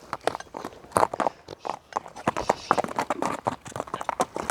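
A brisk, lively horse missing a rear shoe clip-clops in quick irregular hoofbeats on hard ground, close and steady, with faint voices in the background.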